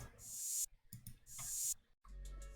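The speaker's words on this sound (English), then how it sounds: "Then I added this reversed open hi-hat" Airy hi-hat hisses that swell in and cut off sharply, repeating in two long rising sweeps, with a low thump entering near the end.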